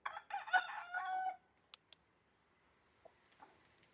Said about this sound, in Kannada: ಎಷ್ಟು ಚೆನ್ನಾಗಿದೆ ನೋಡಿ ಕೋಳಿ